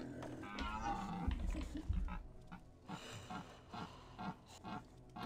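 Pig or boar grunting in a Thief fan mission, low rough grunts and snorts, moderately close, repeating in uneven bursts over quiet ambient game sound.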